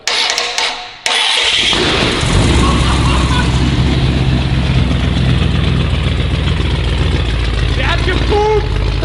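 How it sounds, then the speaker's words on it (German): A Ford F250 V8 engine cranks and catches, then settles into a steady, loud, rumbling idle close by, with broadband mechanical noise and brief voices near the end. "Eigentlich wollen wir den Motor jetzt so starten"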